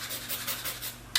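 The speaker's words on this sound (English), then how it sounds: "we grate a little bit of nutmeg before we mix it all together" Whole nutmeg grated over gnocchi dough in a kitchen: a soft, steady rasping scrape in quick repeated strokes, faint and close, with no talking.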